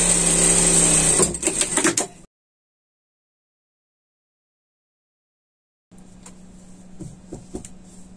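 Sewing machine stitching the hem of a fabric pet sling bag, a fast whirring run that stops abruptly into silence, then resumes more quietly with a few clicks.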